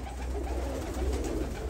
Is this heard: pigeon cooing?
yes